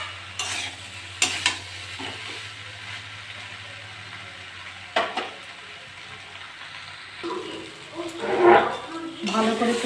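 Spices are stir-fried with crab, shrimp, pumpkin, potato and Malabar spinach in a pan: scraping stirs and sizzling come in bursts that grow louder and busier toward the end, with a voice speaking in between.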